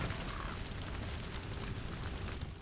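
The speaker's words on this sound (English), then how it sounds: "Fireworks first, and then special napalm for them." Fireworks and a napalm blast in the video game Days Gone, a dense continuous roaring rumble of explosion and fire, loud and close throughout with no talk.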